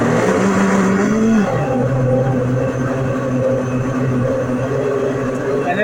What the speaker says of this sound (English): I'm going to blend it again.